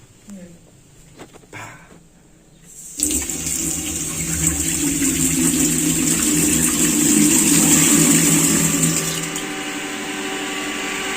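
Water gushes hard from a tap fed by a Hitachi DT PS 300 GX water pump, a loud steady broadband rush after a quiet start, with the pump's hum beneath it and brief talk near the beginning.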